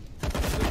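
Rapid gunfire from a Counter-Strike: Global Offensive match, MIBR against TRIDENT, bursting in after a brief quiet start and continuing as dense, loud, overlapping shots.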